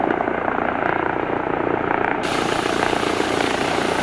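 A Eurocopter EC135 helicopter in the X-Plane 11 flight simulator, on final approach and landing at La Rochelle, gives a steady, loud turbine and rotor drone that runs unbroken throughout, with no talk over it.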